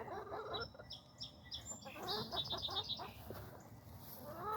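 Farm chickens clucking and giving short, high calls in a quick series of nearby bursts over a steady background noise, with no talk.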